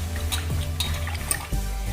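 Water swishes and splashes as cut ridge gourd peels are washed by hand in a bowl, a continuous close, loud sloshing with small drips and a brief thump near the end.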